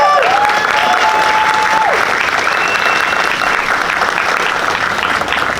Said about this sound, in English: Let's give Mel a huge round of applause.